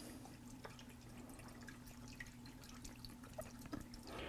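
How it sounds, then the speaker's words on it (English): A paintbrush being rinsed in a water container gives soft, intermittent dripping and sloshing over a low steady hum, quiet and close. "I'm rinsing my brush out real, really good"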